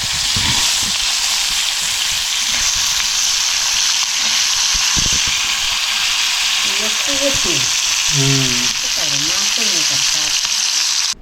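Fish fries in a pan in a Konkan home kitchen, a steady loud sizzle and crackle running throughout, with brief scraping stirs and a few short vocal sounds near the end.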